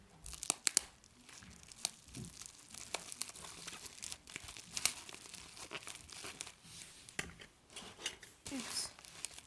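Tape is pulled and pressed onto a small boat made of popsicle sticks, heard as close, crackly crinkling and tearing bursts in an irregular run, with occasional quiet voice in between.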